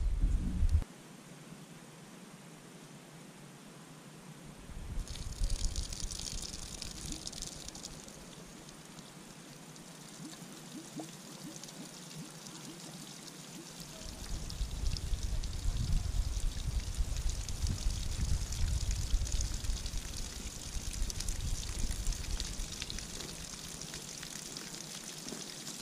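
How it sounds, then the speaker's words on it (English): Water from a garden hose flows into the cooling system of a Honda CBR250R MC19 motorcycle during a flush. It makes a steady hiss and splash that grows louder and rougher partway through, with no talking. "So I'll go and turn the hose on gently and sort of feed it up"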